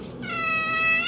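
A cat gives one loud, close, drawn-out meow that rises and wavers, alone with no talking.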